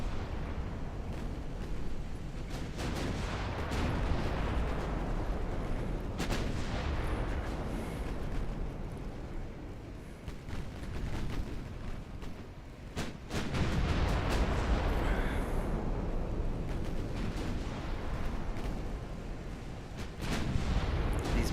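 Battleship main guns firing armor-piercing shells in a naval warfare game, a continuous barrage of heavy booms and rumbling blasts rolling over one another at steady high loudness, with a brief lull before it swells again.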